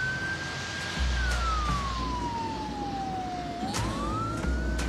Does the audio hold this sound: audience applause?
no